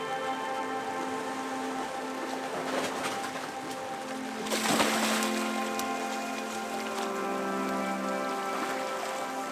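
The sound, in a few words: rain falling during a backpacking trip on Ulleungdo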